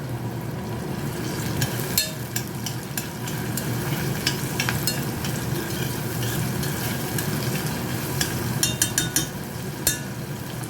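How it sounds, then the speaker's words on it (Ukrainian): Chopped onion fries in a pan with a steady, dense sizzle, broken by scraping and clicking as it is stirred now and then. "Цибуля в мене жариться"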